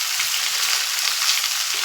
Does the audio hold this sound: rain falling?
no